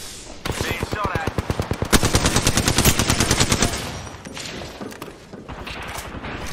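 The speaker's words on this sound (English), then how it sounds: "Being shot at." Rapid automatic gunfire in the battle royale game Apex Legends, loud bursts of tightly spaced shots rattling for several seconds before easing off into quieter action.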